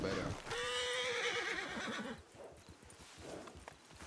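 A horse in the video game Red Dead Redemption (WildRP) gives a loud, close whinny lasting over a second, then snorts and shuffles its hooves more quietly.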